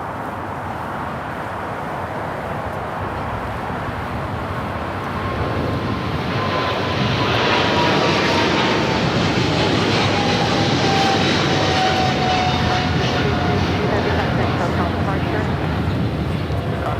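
A jet airliner on the runway at Los Angeles International Airport (LAX) roars as a broad, steady rumble that swells louder over the second half and holds there, heard from nearby with some wind noise.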